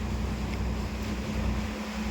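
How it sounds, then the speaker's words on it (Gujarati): Steady low engine drone of a fishing boat easing its speed at sea, with a constant hum and wash of water and wind, loud and unbroken with no talk. "મેં બોટ ધીરી પાડી દીધી છે"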